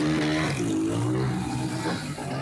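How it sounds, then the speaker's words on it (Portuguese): A street party on a Sunday evening in Jabaquara, São Paulo, with motorcycles doing stunts and loud car sound systems, a continuous revving engine drone with rising and falling pitch, dense and close. "motoqueiros fazendo manobras"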